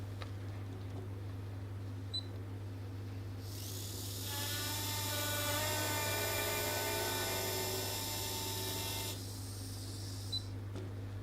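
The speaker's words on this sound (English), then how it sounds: "I'm just going to remove this and go ahead with our final drill." A dental implant drill cutting the final osteotomy in a dental model, a steady high whine that runs for about five seconds beneath a constant low hum, with no talking.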